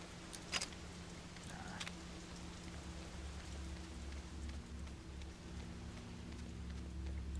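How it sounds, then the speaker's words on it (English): Steady rain falls in the horror video game Fatal Frame (Project Zero), a constant soft wash of patter with a low ambient drone, plus a couple of brief sharper taps near the start. "It's actually raining."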